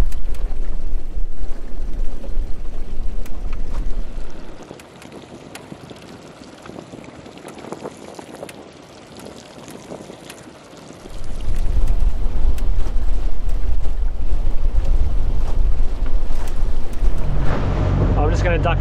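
A small motorboat engine rumbles loudly on the water with wind buffeting. It drops to a quieter idle midway, then surges back up to full drone.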